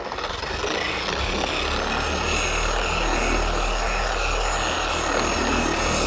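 A Harbor Freight Bauer 6-inch dual action polisher runs steadily on its lowest power setting, a continuous whirring drone with a low motor hum, close and even in level throughout.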